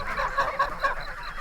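A flock of farm geese honks in quick, overlapping bursts, a busy chorus of nasal calls nearby with no talking.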